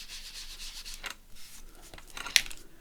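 Soft repeated rubbing as ink is blended around the edges of a Tim Holtz paper tag, a steady scuffing texture with a sharp tap near the end, close and quiet with no talk.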